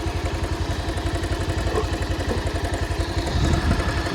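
A motorcycle engine runs steadily in gear as the bike creeps forward on the clutch without throttle, giving a close, even pulsing thrum with light mechanical clatter throughout.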